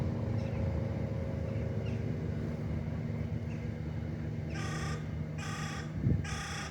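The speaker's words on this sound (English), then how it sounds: "Some crows there on the roof." Three harsh crow caws ring out in a row from a rooftop near the end, above a steady low rumble of traffic in Wimbledon.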